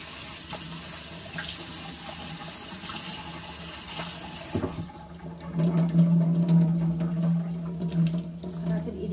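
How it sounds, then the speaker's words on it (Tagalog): Meat trimmed of fat is rinsed under a running kitchen tap, a steady close wash of water with clattering handling, swelling louder and fuller in the second half. "So, hugasan lang po natin."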